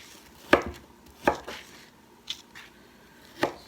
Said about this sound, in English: we're just going to cut these pieces, it's still frozen, into bite-sized chunks